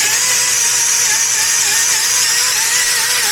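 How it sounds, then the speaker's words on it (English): A power sander runs continuously and loudly on the bearing bore face of a 1994 Jeep Grand Cherokee during CV axle work, giving a steady high-pitched whine and abrasive hiss with no pauses. "Whenever you're sanding down a face like this, keep your sander nice and flat like this."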